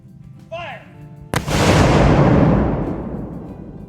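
Battle reenactment gunfire volley at South Mountain: a sharp, loud simultaneous crack of many muskets bursts out and decays into a long rolling rumble, after a shouted command and a brief vocal sound beforehand.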